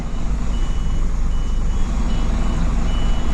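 Reversing beeps from a vehicle backing a trailer through a gate beside a wall, a loud steady warning tone over a deep engine rumble close by.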